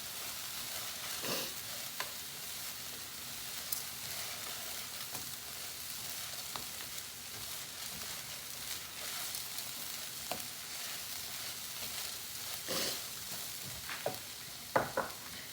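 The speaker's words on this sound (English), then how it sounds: "Then I'm going to add the lentils. I'm going to stir that around a minute." Green lentils sizzle and crackle steadily in a hot pan as they are stirred, with a constant close frying hiss broken by occasional scraping taps of the spoon; no voices.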